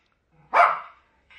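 A dog gives a single loud, close bark indoors, with the start of another bark cut off at the end.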